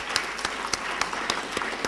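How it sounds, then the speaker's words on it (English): A small audience gives a warm round of applause, light scattered claps with a few sharper individual hits standing out, moderately quiet and heard on its own. "So we want to give him just a warm clap"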